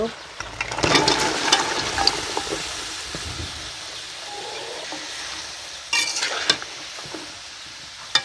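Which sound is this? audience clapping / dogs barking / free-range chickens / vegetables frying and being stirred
vegetables frying and being stirred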